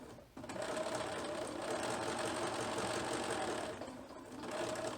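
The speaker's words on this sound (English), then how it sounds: "I want to sew about 1/8 of an inch, really pretty close to the edge" A sewing machine runs a steady stitching burst close to the edge of fabric while making a fabric zipper pencil bag, with a brief pause near the end before resuming; no talking.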